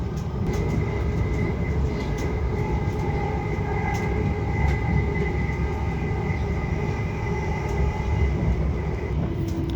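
A passenger train pulls into Audley End station, its steady rumbling roll and wheel noise continuous throughout, with faint tonal whines and light clicks over the track, heard from inside the carriage.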